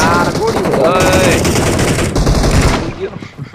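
Rapid automatic gunfire from a video game shooter, loud sustained bursts with a voice talking over them, trailing off near the end.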